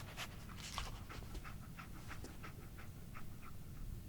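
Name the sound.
dog panting, Dogmeat companion in video game Fallout 4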